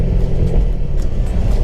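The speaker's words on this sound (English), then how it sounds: "But you can hear it cackling and popping in the background" Steady low rumble from a supercharged Holden HSV GTSR V8 with faint intermittent crackles and pops from the exhaust, continuous throughout, fairly close.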